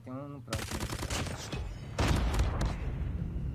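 Rapid video-game gunfire from an online shooter, loud repeated bursts with a heavier volley midway, after a short electronic tone at the start.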